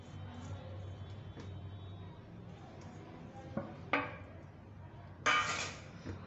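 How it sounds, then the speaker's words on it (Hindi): Beef paya is ladled out of a cooking pot, soft scraping and stirring under a low hum, punctuated by a few sharp metallic clinks of a spoon against the pot and dish. "यहाँ पे जी देखिए, मैं पायों को जो है ना डिश आउट कर रही हूँ।"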